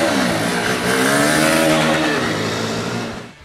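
A Honda Hornet 2.0 motorcycle engine revs loudly and close by, building to a sustained roar before easing off at the end.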